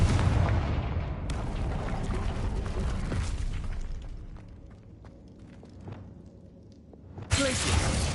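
Confringo fire spell blasting in Hogwarts Legacy, a booming explosive burst that rings out and decays over several seconds before another loud blast near the end.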